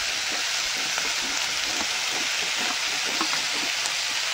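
Pangas fish curry with fried red shrimp and turmeric sizzles in hot oil while being sautéed, a dense, even crackle like rain on a surface, steady and close with no voices.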